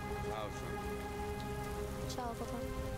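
Steady rain pours in the video game Heavy Rain, a dense, even patter filling the whole stretch at moderate level, with soft sustained musical tones humming underneath.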